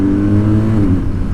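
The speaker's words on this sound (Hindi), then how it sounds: "क्विक शिफ्टर का आवाज़ क्या मस्त आता है इसका" A motorcycle engine revs hard with quickshifter up-shifts while riding in Türkiye, a loud, close, continuous drone with a brief dip near the end.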